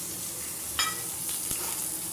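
Hilsa fish heads hit hot oil in a pan while lentil dal is being made, giving a faint, steady sizzle with one sharper crackling burst near the start and no talking.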